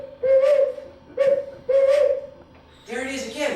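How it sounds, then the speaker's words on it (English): An owl hoots in a radio drama, three evenly spaced steady hoots followed by a rougher, noisier call, clear and fairly close. "There's that owl again."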